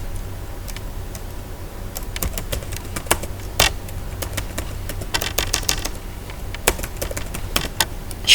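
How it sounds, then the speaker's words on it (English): Typing on an external computer keyboard, with irregular bursts of sharp key clicks over a low steady hum, close and moderately loud, with no voices. "I'm using external keyboard, so I might be a little bit slow in typing."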